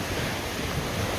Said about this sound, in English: as I sat here watching the ocean waves kiss my feet